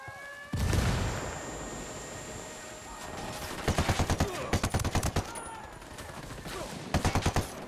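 Gunfire from Ghost Recon Wildlands comes in rapid bursts of shots at close range. Repeated volleys stack up over a steady game background.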